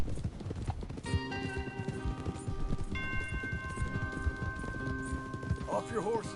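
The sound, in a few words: horses galloping in Red Dead Redemption II video game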